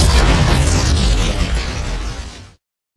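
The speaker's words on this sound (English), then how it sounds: "Oh my goodness, that explosion was huge." A huge TNT explosion in Minecraft erupts as a loud, heavy boom with a rumbling tail that fades and cuts off abruptly after about two and a half seconds.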